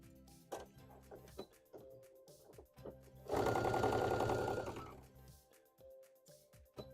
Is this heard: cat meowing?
no